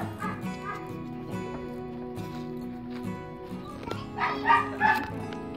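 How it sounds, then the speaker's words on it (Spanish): A chained dog at a house barks and yips again and again, steady and fairly close, with short whimpering yelps mixed in and a few louder bursts toward the end. "Nada más que el perro no deja escuchar. Es que como lo tienen encadenado, está ladre y ladre."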